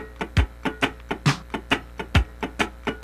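Funk rhythm guitar scratching swung sixteenth notes over a drum machine, a steady run of sharp percussive muted strums and kicks, close and clear, with long and short attacks alternating in a groove.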